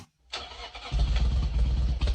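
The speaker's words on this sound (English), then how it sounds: "we revving a little engine" A car engine starts abruptly after a brief silence, then rumbles and revs loudly and steadily within a song.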